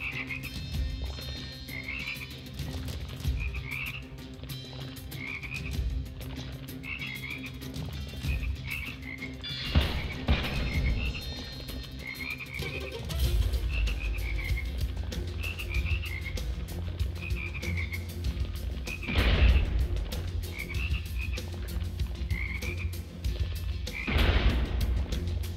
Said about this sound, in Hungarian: Megint a békák.